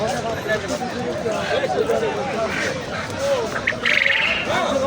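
Several birds, including quail, chirp and squawk amid a busy crowd at a poultry and bird market, with voices and market bustle running underneath throughout.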